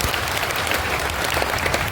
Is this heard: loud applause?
yes